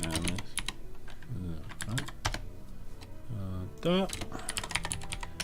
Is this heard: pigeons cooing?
no